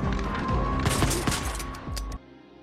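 Rapid gunfire crackles back and forth in a film shootout, several sharp bursts over a dense, loud background that cuts off suddenly near the end.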